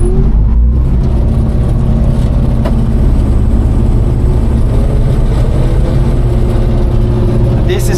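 A harvester engine pulls away slowly in first gear below full throttle, a loud, steady low rumble and whir running close and unbroken throughout.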